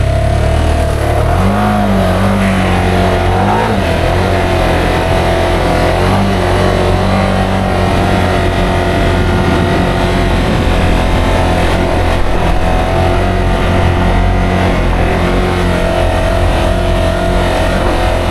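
A Can-Am Outlander XMR 850 ATV on 30-inch Aztex XX tyres drives through soft sand in two-wheel drive, its engine droning loud and close with rising and falling revs throughout.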